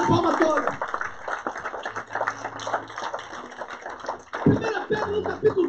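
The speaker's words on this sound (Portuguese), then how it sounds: "Se vai aplaudir a palma toda." A church congregation claps over a persistent murmur of voices, the claps uneven and moderately loud, swelling again near the end.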